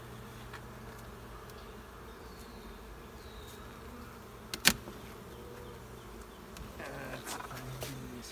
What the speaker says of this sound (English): That's a frame of bees right there.